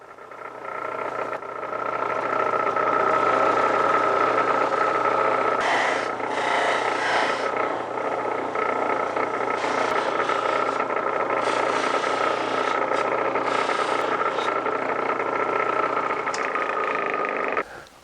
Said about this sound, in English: And now I'm just going to buff the bowl.